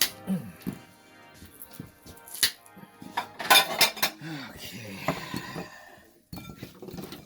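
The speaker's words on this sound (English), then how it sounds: "we're going to slice it in a couple of pieces here" Knife slicing chicken for soup on a kitchen counter, heard as irregular close clinks, taps and scrapes of metal on a board or dish, with brief quiet gaps between.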